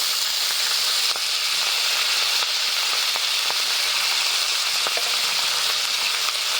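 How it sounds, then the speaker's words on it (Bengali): Chopped cauliflower greens hitting a hot frying pan of fried ingredients, a steady close hiss and sizzle with faint crackles and pops scattered across the whole stretch. "এবার দিয়ে দিচ্ছি কেটে রাখা ফুলকপির শাক।"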